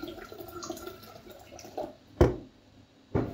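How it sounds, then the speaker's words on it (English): Water poured into a Thermomix jug, a soft running trickle with a few louder splashy pours near the end, close by with no talking. "we're going to add water in here."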